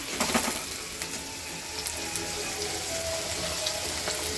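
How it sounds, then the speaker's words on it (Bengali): Onion, capsicum and chili frying together in a pan at home, a steady close sizzle with a few soft stirring scrapes and no voices. "পেঁয়াজ ক্যাপসিকাম লঙ্কা সব একসাথে ভেজে নিচ্ছি।"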